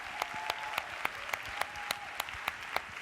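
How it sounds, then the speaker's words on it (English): A summit plenary audience claps for counsellors and delegate speakers, steady clapping with a few sharp individual claps punctuating the wash, heard at a modest level from across a large hall. "big round of applause to our fabulous counsellors, even more fabulous delegate speakers"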